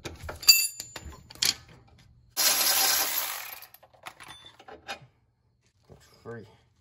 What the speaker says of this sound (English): Loosen the nut.